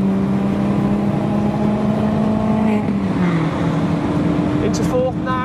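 A race car lapping Cadwell Park accelerates hard after a short shift into fourth gear: a loud, steady in-car engine drone whose pitch dips at the change and then climbs again, with someone talking over it.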